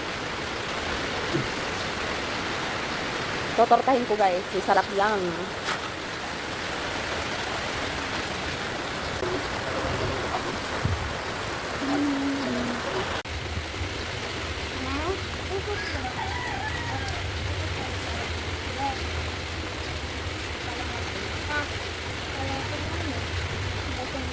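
Steady rain falls outdoors while eggplant is being grilled, a continuous soft hiss of drops on surfaces running throughout, with a person talking over it and brief clattering sounds early on.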